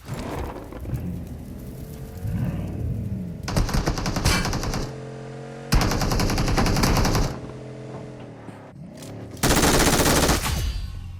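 Video game gunfire in several dense automatic bursts, each lasting one to two seconds, separated by quieter stretches of game ambience, loud and close with no talking.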